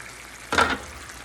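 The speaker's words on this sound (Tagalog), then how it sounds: "Kumukulo na yung ating chicken." A short burst of sizzling, bubbling noise from chicken boiling in a pot rises for about a quarter second over a quiet background, like a rolling boil being disturbed.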